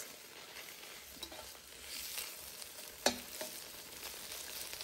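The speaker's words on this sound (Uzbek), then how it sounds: "Endi qizdirilgan qozonga dumbani solamiz va yog'larni eritib olamiz." Sheep tail fat melts with a soft, fairly quiet sizzle in a heated kazan over a campfire, a steady frying hiss with one sharp clack of a utensil in the middle; no speech.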